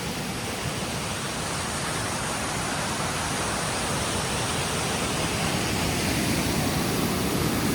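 Main waterfall pouring into the Amaravathi dam, a steady, broad roar of rushing water that stays constant and fairly loud throughout, with no voices.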